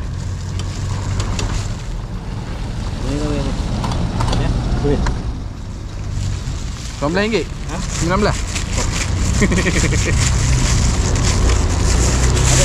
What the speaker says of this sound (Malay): Saya pakai bot angin bang.